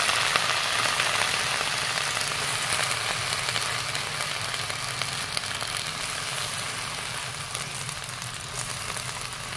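Washed taro leaves go into a hot pan where fish pieces have been frying, producing a dense, continuous hiss and sizzle at a steady loud level, close up with no talk.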